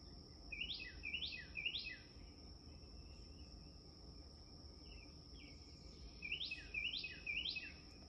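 Outdoors in the morning, a songbird gives two clear bursts of a repeated descending phrase, several notes each, faint and a little distant. A steady high insect trill runs underneath throughout.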